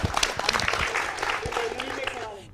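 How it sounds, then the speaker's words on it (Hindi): An audience claps at a public talk, a short burst of scattered, uneven applause with sharp individual claps, mixed with some voices. "जोरदार ताली इस सवाल के लिए"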